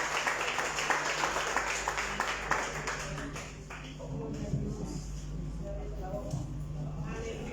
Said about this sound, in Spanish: Que brinde un fuerte aplauso al Padre, al Hijo y al Espíritu Santo.